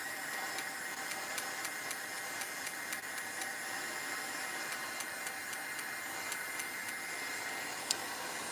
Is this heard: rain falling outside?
no